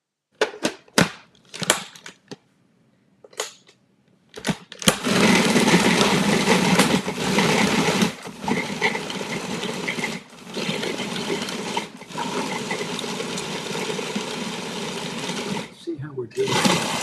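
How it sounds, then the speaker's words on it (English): Spices for a Passover dish are ground into a paste, opening with a few sharp clattering pulses before a loud, continuous whirring grind that runs for several seconds with brief stops in between. "So now I'm going to grind this all up."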